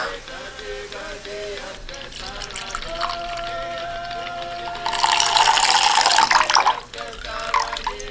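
A cup of milk is poured in a kitchen: a soft liquid trickle builds into a louder, splashing pour for about two seconds, then stops, with faint background sounds around it.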